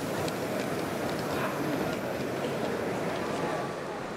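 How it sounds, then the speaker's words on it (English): A scratch-built model Hunslet locomotive named Charles runs slowly with a long train of slate wagons on a garden railway at an outdoor show, giving a soft, continuous rolling rumble with faint, irregular clicks under light background chatter. "this scratch-built Hunslet Charles, running very nicely and slowly with a long train of slate wagons"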